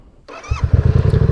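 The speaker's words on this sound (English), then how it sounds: "We're going to get this bike started up." A motorcycle engine cranks and catches, then settles into a close, loud, throbbing idle with a steady pulsing rhythm.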